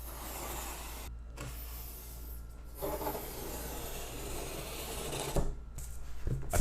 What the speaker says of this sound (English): I'm going to cut our foam pieces.